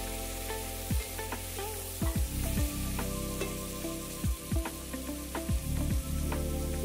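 Spices and ginger-garlic paste stirred in a pan for radish sambar, a steady sizzle with several scraping strokes of a spoon repeating through the clip, close by and with no talking.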